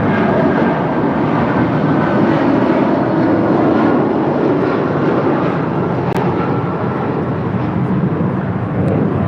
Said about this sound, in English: This is United Airlines 667 departing to Newark on a 757-200.